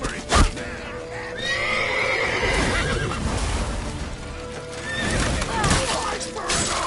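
A horse whinnies loudly near the start in The Witcher 3 on PS5, followed by hoofbeats and busy game action with shouting voices throughout.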